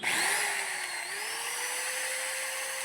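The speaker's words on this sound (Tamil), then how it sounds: "ஸ்க்ரூ பண்ண வேண்டிய இடத்துல எல்லாமே ட்ரில் பண்ணி எடுத்துக்கலாம்." A power drill whines steadily while boring holes in an acrylic sheet for a homemade Volkswagen Polo engine cover, a continuous close motor tone with a brief pitch dip partway through, no voices.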